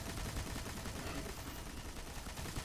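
An LMG in Destiny fires continuously in a steady rapid stream of gunfire, dense and fairly close, with no talk over it.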